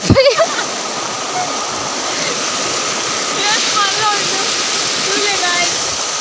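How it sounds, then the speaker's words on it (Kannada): A village waterfall rushing in the open, a broad steady roar of falling water that holds constant, with a brief thud or splash at the start and people talking over the top. "ಎಂಕ್ಲಿನ ಒಂದು ಜಲಪಾತ"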